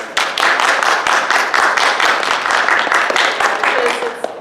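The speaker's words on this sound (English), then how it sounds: "I think that deserves another round of applause" A convention crowd applauds steadily, dense clapping from many hands filling the whole stretch at a loud, even level.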